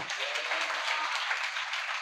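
Church congregation clapping together after the preacher's call during a Telugu sermon, a steady dense wash of hands held at one level throughout, fairly distant and moderately loud.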